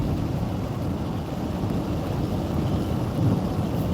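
Steady rain drums on a car during a winter drive through the small town of Sykesville, a loud, continuous hiss and low rumble heard from inside the vehicle, with no talk.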